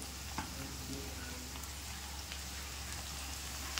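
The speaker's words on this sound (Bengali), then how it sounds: "এবার আমি এর মধ্যে চাউমিনটা দিয়ে দেবো" Onion and chopped chilli sizzle steadily in hot oil as boiled chowmein goes into the pan, a continuous close frying hiss with a few soft stirring ticks and no voices.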